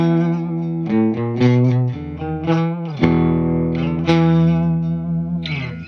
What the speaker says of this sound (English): am playing through a Gibson Les Paul Special with Burstbucker Pros.